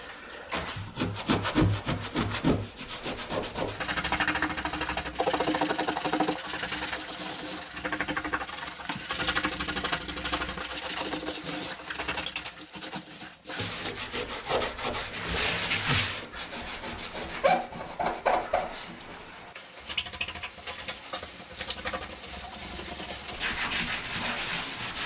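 A rubber float spreads grout over shower tile with a steady, continuous scraping and rubbing that runs loud throughout, broken by only brief pauses.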